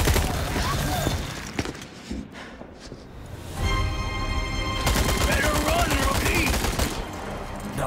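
Rapid bursts of gunfire in the video game Resident Evil 4 fill most of the stretch, dense and loud, with a brief quieter lull partway through before heavy firing resumes.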